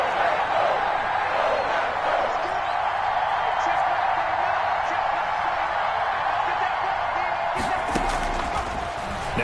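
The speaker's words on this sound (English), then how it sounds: "the crowd getting into it as we come up on a big 3rd down" A stadium crowd roars steadily in a football video game on PS4, a dense, sustained wash of cheering that holds at one level, with a few sharp thumps near the end.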